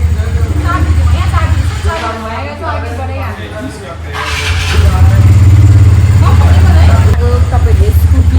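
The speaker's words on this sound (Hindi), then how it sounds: "चाबी घुमाता है तो चलाता है" A white and black scooter is started with a key and its engine runs steadily, a low drone that swells louder in the second half while people talk over it.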